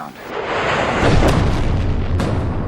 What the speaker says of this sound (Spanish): La primera fase de esta guerra fue el bombardeo de Afganistán